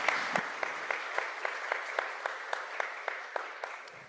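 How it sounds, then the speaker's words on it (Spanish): An audience at a panel on historical memory and archives gives steady applause, a moderate, evenly paced wash of clapping with distinct individual claps standing out throughout. "Un fuerte aplauso, por favor."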